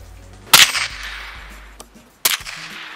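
Two sharp rifle shots from a Ruger 10/22 .22 rifle fired outdoors, the first about half a second in and the second near two and a quarter seconds, each a loud crack with a short decaying tail over quiet background.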